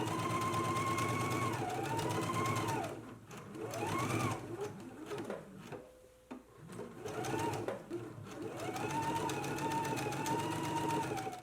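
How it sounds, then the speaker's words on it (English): A sewing machine runs in long, steady bursts while stitching the fly lines on a dress, its motor whirring evenly with brief slowdowns and a quiet gap in the middle. "let's stitch those on now"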